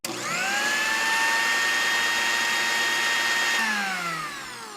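An electric kitchen blender grinding browned onion, nutmeg and mace into a paste: a sharp start, then a steady high motor whine that holds for several seconds before spinning down, loud and alone.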